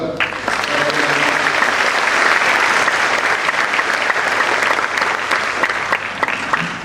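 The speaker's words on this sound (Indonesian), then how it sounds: "Sekali lagi tepuk tangan buat." An audience at an Indonesian government briefing on national character gives a sustained round of applause, dense and loud, holding steady for several seconds with a voice faintly underneath.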